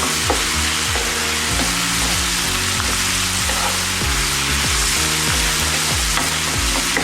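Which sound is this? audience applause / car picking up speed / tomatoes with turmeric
tomatoes with turmeric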